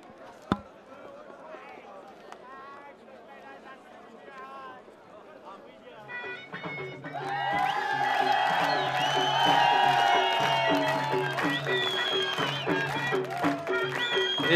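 A cricket crowd at an Afghan Shpageeza Cricket League match starts faint under a commentator's voice, then swells into loud sustained cheering, whistles and whoops that continue to the end.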